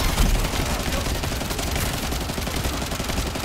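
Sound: machine gun fire in video game The First Descendant

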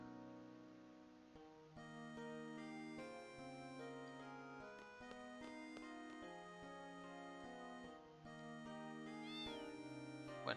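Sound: cat meowing in the video game Final Fantasy VIII Remastered

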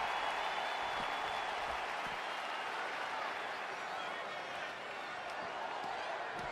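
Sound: crowd applause in the video game WWE 2K20

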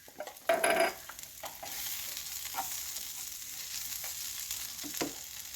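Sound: spices sautéing and stirring in frying pan for beef roast

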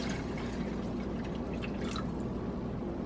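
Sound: water pouring into soup pot

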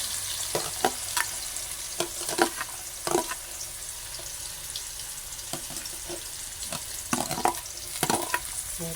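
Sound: carrots frying in a pan

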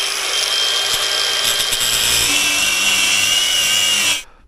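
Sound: power tool cutting through a stuck bolt

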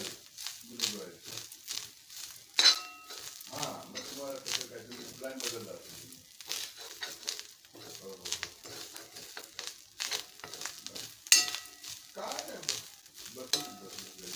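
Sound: dry roasting grated coconut in a pan

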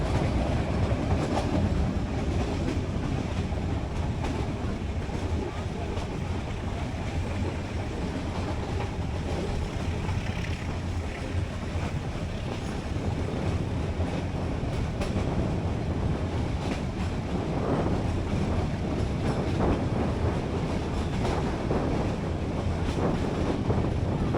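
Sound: meter gauge train running on rails, Junagadh to Sasan Gir

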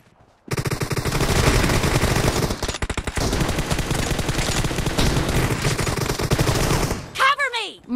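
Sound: gunfire in the video game PUBG Mobile

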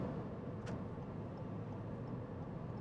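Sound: road and wind noise inside 2019 Toyota Corolla Hatchback at highway speed

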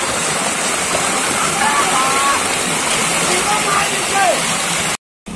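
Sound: floodwater gushing out onto road

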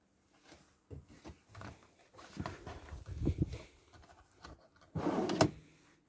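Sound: drawers opened and closed in a camper van kitchen

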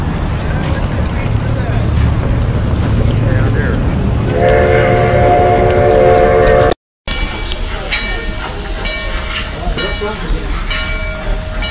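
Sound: Durango and Silverton steam train backing out

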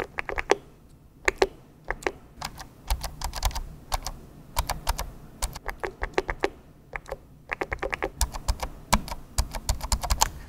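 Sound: Elgato Stream Deck original and scissor keys being pressed

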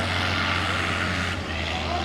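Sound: engine running without a turbo

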